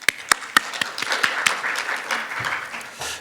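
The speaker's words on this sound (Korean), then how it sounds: "큰 박수 부탁드립니다" An audience at a Korean water symposium applauds a professor, a few sharp individual claps opening into a brief dense round of clapping in a hall that fades out quickly.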